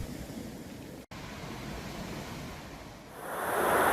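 Ocean waves crash against a crumbling seawall on an eroding beach in Karangasem, Bali, a continuous broad rushing roar that briefly cuts out, then swells louder toward the end.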